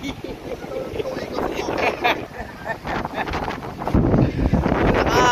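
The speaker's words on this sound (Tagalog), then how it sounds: "Lakas ng alon, laki ng alon, malakas ang hangin" Strong wind buffets a boat riding big waves, with a loud, steady roar of wind and water splashing throughout, under people talking.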